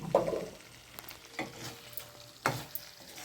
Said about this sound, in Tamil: கீறி வச்ச முட்டையை நம்ம அதில் சேர்த்துக்கிடுவோம்